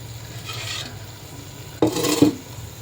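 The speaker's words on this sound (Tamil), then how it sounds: "இப்படி நல்லா அப்படி கிளறி விடுங்க" Spoon scraping and rubbing through thick chicken gravy masala in a pan, a soft rasping stir that fades midway, then a louder burst of scraping strokes near the end.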